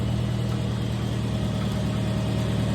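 An International Harvester Farmall 140 tractor engine runs steadily with the clutch being let out, a loud, close, continuous low throbbing drone with no voices.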